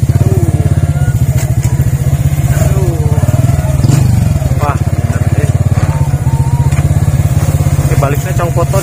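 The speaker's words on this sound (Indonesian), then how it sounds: "Kasihan nih motor Supra Fit nih." A Supra Fit motorcycle climbs a rough off-road mountain trail near a coffee plantation, its engine chugging loud and close in rapid pulses while a rider talks over it.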